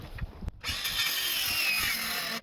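A power saw starts after a brief click and whines steadily as it cuts timber during an extension roof rafter and valley build outdoors, close and fairly loud, then stops abruptly.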